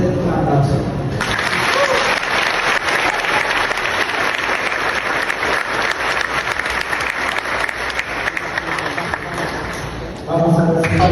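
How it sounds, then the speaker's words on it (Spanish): Sustained applause from a church congregation fills the space for roughly ten seconds, a dense, steady wash of clapping that starts abruptly and fades near the end, with a voice briefly audible before and after. "Ese es un aplauso."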